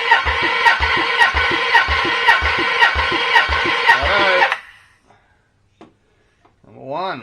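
A Nissan 300ZX Z32 twin turbo engine cranks over on the starter for a compression test, giving a steady, rhythmic chugging of evenly spaced pulses for about four seconds before it cuts off into near silence, followed by a brief voice.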